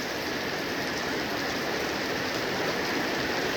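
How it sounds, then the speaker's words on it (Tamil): A steady downpour of heavy rain falls over a village, a loud, unbroken wash of hissing drops close by with no talking. "சூப்பரா பெய்யுதுங்க. நல்ல மழை வருதுங்க இன்னைக்கு."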